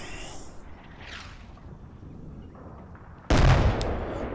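Mortar fire in the WWII strategy game Combat Mission Red Thunder at the Battle for Seelow Heights: a quiet hissing lull, then a sudden loud blast near the end, with no talking.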